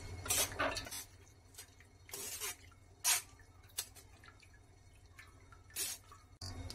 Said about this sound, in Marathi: डाळीतलं पाणी आपल्याला सगळं नितळून घ्यायचं आहे